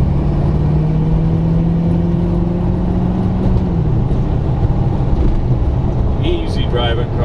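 A 1933 Ford 3W Coupe hot rod with a flex fan drives steadily along a highway, its engine a constant low drone under continuous road and wind noise. Someone talks over it.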